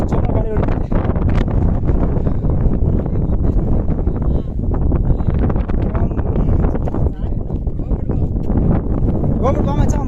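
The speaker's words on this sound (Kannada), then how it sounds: "ಮೊಬೈಲೇ ಕಿತ್ಕೊಂಡು ಹೋಗ್ತೈತೆ ಮಚ್ಚ, ಅಷ್ಟು ಜೋರ ಗಾಳಿ ಹೊಡಿತೈತೆ" Strong wind roars across an open hilltop at Vanjangi Hills near Vizag, a constant loud buffeting on the microphone for the whole stretch, with voices talking underneath.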